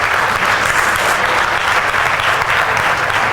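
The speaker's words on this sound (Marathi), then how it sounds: "टाळ्या वाजवा" An audience claps together, a dense, sustained burst of applause that stays loud and even from start to finish, close and without any voices over it.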